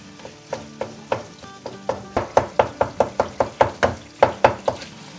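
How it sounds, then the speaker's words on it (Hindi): Tomatoes being mashed in a pan for a chicken karahi, a regular series of soft thumping knocks, about a dozen and a half, that grow louder and closer together as it goes on, with no talking. "छिलका उतारने के बाद अब इनको मैश कर लें इसके अंदर।"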